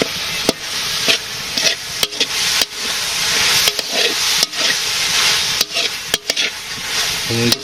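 Garlic sizzling in a hot oil pan in a Bangladeshi village kitchen, a steady loud fry broken by repeated sharp scrapes and knocks of a spoon stirring against the pan, no voices.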